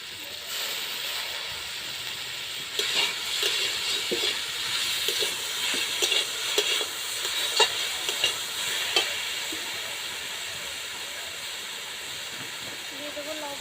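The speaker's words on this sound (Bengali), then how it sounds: "হালকা ফ্রাই করব, বেশি ফ্রাই করব না টমেটোটাকে।" Tomato and grated raw potato fry in a pan with a loud, continuous hissing sizzle and steam, plus close stirring clinks and scrapes through the middle, no talking.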